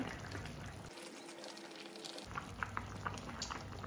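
Pot of vegetables and mutton simmering for Senegalese thiéboudienne, a soft, steady bubbling and popping close by, with a brief quieter stretch in the middle and small liquid blips toward the end.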